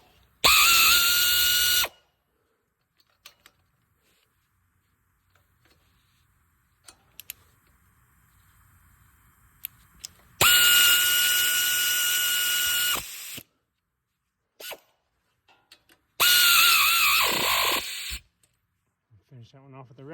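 A ratchet tightens a bolt during a clutch kit replacement on a 2005–10 Chevrolet Cobalt. It comes as three loud, close bursts of rapid clicking separated by quiet gaps with small knocks.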